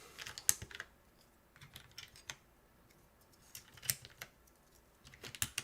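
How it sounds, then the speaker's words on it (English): Keycaps snapped back onto a Neo80 CU mechanical keyboard, with scattered clicks and short clustered clacks, fairly close and crisp, and quiet gaps between the bursts. "So let's put the keycaps back on."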